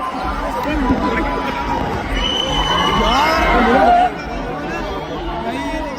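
A live concert crowd at Global Village in Dubai roars and cheers for a winner, with dense chatter and shouting filling the whole stretch before the noise drops off abruptly near the end.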